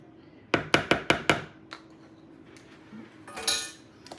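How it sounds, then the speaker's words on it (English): A fork scrapes against a bowl while cutting a third cup of shortening into blackberry cobbler dough: five quick, sharp clinks in a steady row, then a few softer scrapes and a brief rustle, fairly close. "And I'm just going to use my fork"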